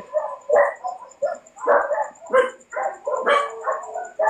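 A dog barks and yips repeatedly in short, uneven bursts, loud and close, with a few whimpering notes mixed in and no talk over it.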